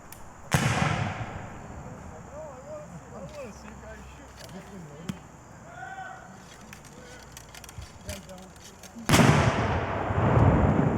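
Musket volley at a Civil War reenactment, a sharp broadband blast near the start and another loud roar near the end, with shouted commands and chatter in between.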